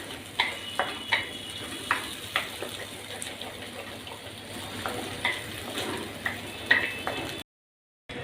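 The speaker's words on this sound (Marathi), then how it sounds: "गॅस बारीक करून आपण हा मसाला चांगला व्यवस्थित परतून घेऊया पहिले" Ground green masala sautés in a pan over low gas heat, with a soft steady sizzle broken by repeated clinks and scrapes of a spoon stirring, close up, before a short silence at the end.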